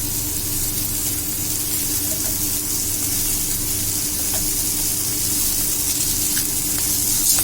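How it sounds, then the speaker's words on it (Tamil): Onion, ginger, garlic, black pepper and cumin sauté in hot oil with a steady, even sizzle and crackle that holds unchanged at moderate loudness throughout, with no talking. "மிளகு, சீரகம் போட்டாச்சு. அதுவும் லைட்டா நம்ம வதக்கிக்கலாம்."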